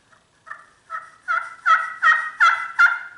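Soft yelp on a turkey pot call worked with a hickory striker, a series of seven clear, rising two-note turkey yelps, growing slightly louder, played close with no talking.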